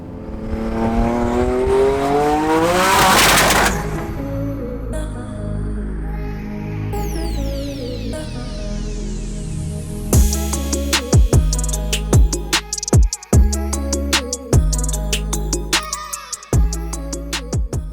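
A 950 HP twin-turbo Nissan 350Z engine revs up with rising pitch during a brake-boosted launch, then sharp gear shifts and repeated bursts of acceleration follow, loud and close, with no talking.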